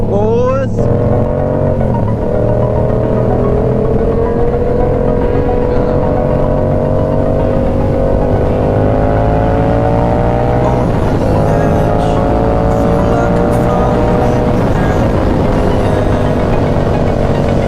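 A Yamaha R7 motorcycle pulls away and rides off, its engine droning loudly and steadily with rising pitch as it climbs through the gears, wind noise mixed in throughout.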